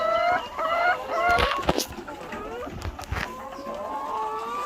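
Several hens cluck and call close by, overlapping in uneven bursts with faint farmyard background noise.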